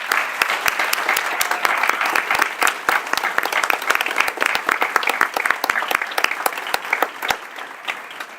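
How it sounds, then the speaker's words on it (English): An audience at a candidate event at Greenville Tech applauds the candidates, a sustained round of dense clapping with distinct sharp claps standing out, loud and continuous from start to finish. "let's give them all of them a round of applause"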